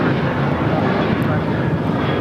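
A British Airways Airbus A380 arrives on runway 24 right at LAX, its jet engines a steady, close, loud roar that holds evenly throughout.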